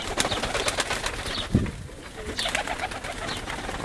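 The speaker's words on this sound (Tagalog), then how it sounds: "Siya yung kalapati rin." A pigeon coos once, close and clear, in a short low burst amid steady outdoor background noise with scattered chirps.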